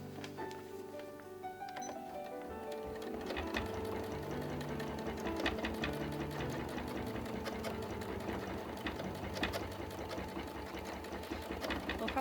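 A sewing machine stitches through a quilt while it is being quilted, running at a steady, fairly quick mechanical rhythm with a soft whirring hum, starting a little quieter and continuing alone without talk.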